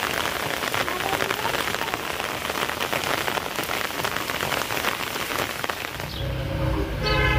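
Steady rain falls on surfaces, a dense continuous hiss of drops, with a brief distant car horn toward the end.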